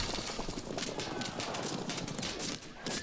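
Horse archers' hooves moving across the field in the Field of Glory 2 strategy game, a quick, busy patter of many hoofbeats at moderate volume with some faint background battle noise.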